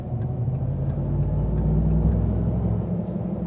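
Supercharged engine of a RAM 1500 TRX pickup hums with a steady, loud low rumble and a faint whine over it, holding even for a few seconds with no talking.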